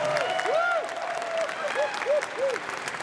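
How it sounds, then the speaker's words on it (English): Convention audience at an Anthrocon 2023 opening ceremony breaking into steady applause, moderately distant, with scattered whoops and voices mixed into the clapping. "give yourselves a round of applause"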